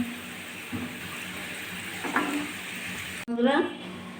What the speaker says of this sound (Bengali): আলুগুলো লাল করে ভেজে নিয়েছি